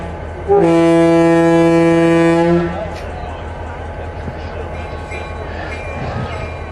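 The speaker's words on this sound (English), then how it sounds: "give us a blast on the horn there and pass in review" A diesel freight train sounds one loud, sustained multi-tone horn blast lasting about two seconds during a parade review. It then cuts off, leaving a low rumble of the passing train.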